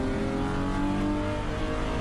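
Race cars accelerate hard past at One Raceway during an IPRA NSW round, with the Giantini Honda among them, giving a loud, continuous engine roar that holds steady without any break.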